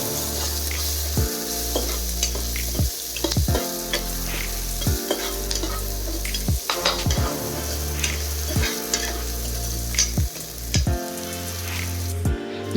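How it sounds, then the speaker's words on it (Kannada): Onion fries with garlic and ginger in a pan for village-style chicken curry, a constant loud sizzle broken by regular scraping strokes of a spoon stirring through the pan. "ಹಾಗೆ ಅರ್ಧ ಆನಿಯನ್ ಸೊ ಎಲ್ಲ ಹಾಕ್ಕೊಂಡು ಚೆನ್ನಾಗಿ ಫ್ರೈ ಮಾಡ್ಕೊಳ್ಳೋಣ"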